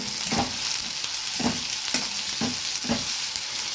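Ginger garlic paste and onion frying in a pan, a loud continuous sizzle with rhythmic scraping stirs about every half second, close and alone.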